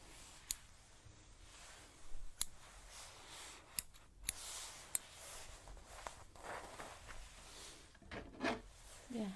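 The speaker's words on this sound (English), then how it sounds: "we also use a special set of scissors that helps remove some of the weight" Thinning scissors snipping through hair during a close-up ASMR hair and scalp session, quiet intermittent sharp clicks and soft rustling.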